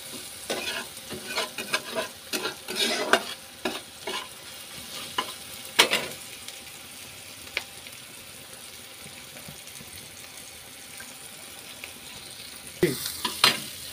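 Onions fry in a pan for a mushroom and egg curry, a soft continuous sizzle with clusters of spatula scrapes early on, a quieter stretch in the middle and a few stirring knocks at the end.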